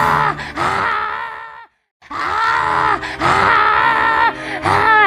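A voice imitates the screaming of a possessed boy with long, strained, groaning wails and cries, loud and close, broken by a brief silence partway through.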